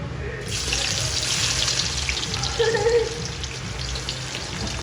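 Chopped onion goes into hot oil with fried whole garam masala spices, giving a continuous loud, close sizzling hiss that stops abruptly at the end. No voice is heard.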